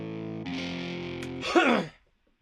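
Two distorted MIDI guitar parts, heavily processed with effects, sustain a thick buzzing chord, then a brighter distorted swell rises and cuts off abruptly into silence.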